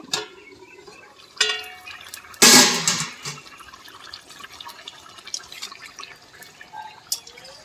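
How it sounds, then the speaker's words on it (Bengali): Cabbage and potato boil in a covered pot, with soft watery bubbling and dripping broken by a sharp clatter and splash a couple of seconds in, then quieter liquid sounds and a few later clinks. "তো বাঁধাকপি আর আলুটা কিছুক্ষণের জন্য ফুটিয়ে নেব ঢাকা দিয়ে"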